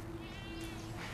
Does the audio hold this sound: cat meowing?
yes